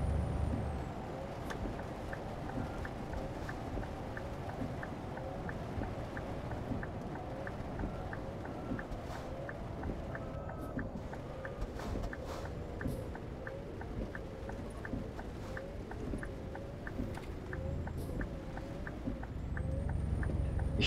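Steady rain drums on a truck cab while driving in Euro Truck Simulator, a dense continuous hiss over a low engine rumble, with faint periodic clicks throughout.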